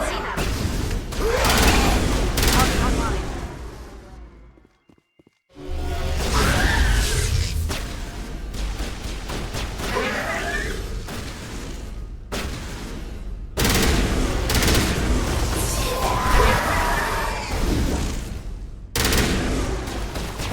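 A newly acquired gun in the Mass Effect video game fires in rapid bursts of shots and whooshes, loud and close, broken by a brief near-silent gap and several short pauses.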